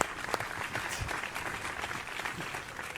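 An audience applauds a woman named Lydia at an AI conference session, steady dense clapping filling the room for about three seconds at a moderate, fairly distant level.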